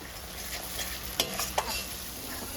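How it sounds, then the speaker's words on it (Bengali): Masala of dried chili, ginger, garlic, salt, turmeric and tomato fries in oil while being stirred, a close, steady sizzle with two or three quick scraping clicks of the spoon against the pan. "মশলা কষানো হয়ে গেছে"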